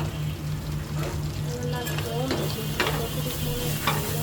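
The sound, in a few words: fish being flipped while frying in a pan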